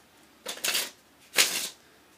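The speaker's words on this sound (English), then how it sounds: "So we can give it a few cuts, a little shuffle." A brand new deck of Bicycle Ghost playing cards is shuffled in two quick riffling bursts, close and crisp, separated by a short pause in an otherwise quiet room.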